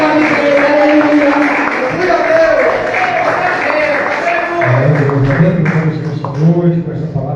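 A church congregation claps loudly and steadily for several seconds, a dense wash of hands mixed with music and voices, which grows a little fuller toward the end.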